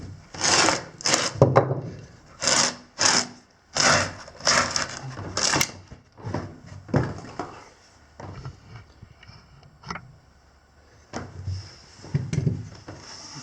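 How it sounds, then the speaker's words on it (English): Carpet is ripped off wooden stairs with a carpet gripper tool in a series of short, rough tearing and scraping bursts. Each pull is close and fairly quiet, separated by brief pauses. "I have this carpet gripper thingy, and that pulls it right off."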